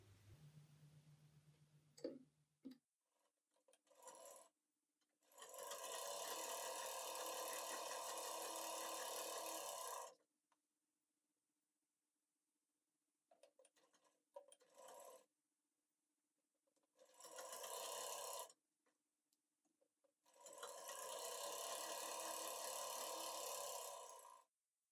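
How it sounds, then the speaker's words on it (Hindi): An electric sewing machine stitching a kurti, running in loud, steady bursts of a few seconds each, separated by quiet pauses and small clicks of handling. "अब हम यहाँ पर सिलाई लगाएंगे।"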